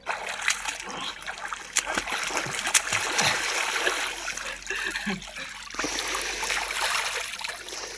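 Splashing and trickling in a cold, deep water pit, with broken bursts of splashes over a steady flowing wash, fairly close and moderately loud; a voice is faintly present.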